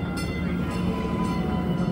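Baltimore Light RailLink tram arriving at its first stop fresh from the yard, a steady low rumble and rail hum with faint high squeal, moderately near and continuous without talk.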